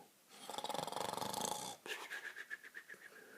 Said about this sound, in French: Il ronfle fort.